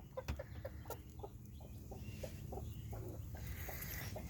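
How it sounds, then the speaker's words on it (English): A mother hen gives soft, steady rhythmic clucks close by while her newly hatched baby chicks peep faintly underneath, with low background hum. "It's about the chickens."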